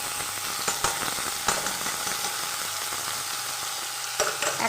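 Ginger-garlic paste and chopped tomato sizzle with meat in a hot pan, bright steady frying hiss broken by scraping stirs and a few louder clacks of the spoon, close and alone.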